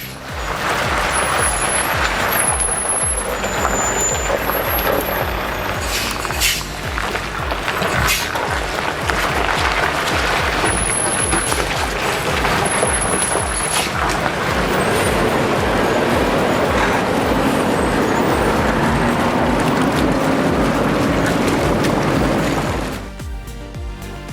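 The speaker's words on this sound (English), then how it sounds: "the trucks tackle tight hairpin bends while loading logs in the forest" Heavy logging trucks grind along a steep forest road with tight hairpin bends, engines droning loudly and continuously with hissing brakes, until the noise drops off abruptly near the end.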